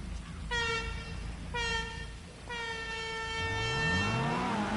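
A car horn honks three times in a GTA video game street race, two short toots followed by a longer blare over a low engine drone, with another horn-like tone sliding upward near the end.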